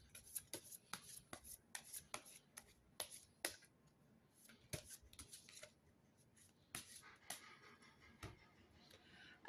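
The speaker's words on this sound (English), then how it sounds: "I'm going to continue shuffling the rest of the deck" A deck of oracle cards is shuffled by hand in quiet, close and soft, a rapid irregular run of riffling taps and rubbing card slaps with brief pauses between bursts.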